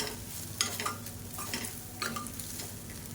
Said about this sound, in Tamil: இதை சேர்த்துட்டு நல்லா மிக்ஸ் பண்ணிக்கலாம்